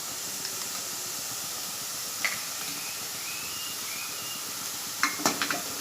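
Green masala is stirred into chicken samosa filling in a hot pan, a steady hiss and sizzle with a few soft spoon taps and scrapes, no talking.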